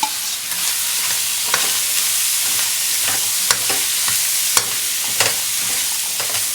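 Apple, onion and potato pieces fry steadily in a pot for mulligatawny soup, a constant close sizzle broken by several sharp clacks of a utensil stirring against the pan.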